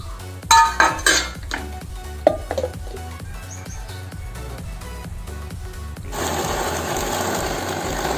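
A mixer grinder whirs as it minces chicken for momo, its motor pulsing in short runs with a few sharp clinks early on, then settling into a louder, rougher grinding for the last couple of seconds.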